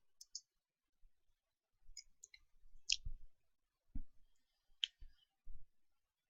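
Computer mouse clicks, several faint, sharp taps at irregular intervals in an otherwise quiet room, with soft low thumps between them.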